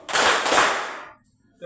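A group of schoolchildren in a classroom clapping together once during a math counting game, a single loud burst of many hands slightly out of sync that fades quickly into quiet.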